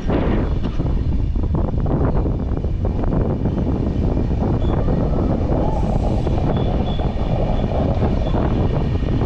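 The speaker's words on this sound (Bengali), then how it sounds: "আমাদের ট্রেন এখন টানেলের ভেতর দিয়ে ঢুকছে।" A loud, steady rumble of the Gitanjali Express (12102, Shalimar to Mumbai) entering a tunnel at speed, with a roaring, hollow wash of noise and faint high whines throughout; no voices.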